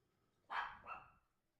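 A dog gives one short bark with a quick two-part shape, fairly faint and set against a quiet background.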